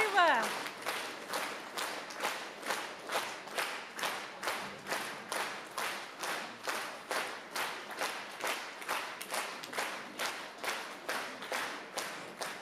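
A concert audience at a jubilee concert breaks into rhythmic unison clapping, steady even beats about twice a second that carry on evenly throughout, after a brief voice at the very start.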